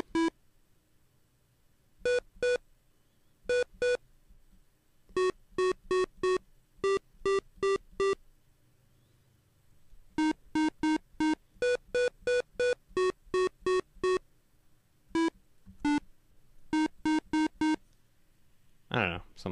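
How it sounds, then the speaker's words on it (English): A PICO-8 chiptune lead line plays a melody of short, bright square-wave beeps in quick clusters and steady rhythmic runs, separated by brief pauses, clean and alone. "we're gonna add in a lead line, and that's going to sound something like this."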